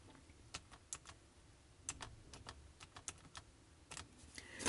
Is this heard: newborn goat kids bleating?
no